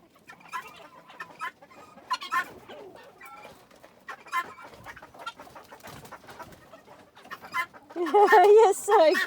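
Guineafowl calling in an aviary, a steady run of short chattering clucks and calls near and far, rising to a loud, harsh burst of cackling at the end.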